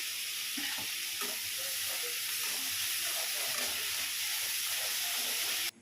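Steady sizzling and frying of tomatoes sautéing in a pan, with occasional stirring clinks, continuous and fairly close, no voices.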